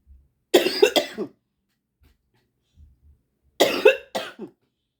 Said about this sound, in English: Why all of a sudden I'm getting the cough?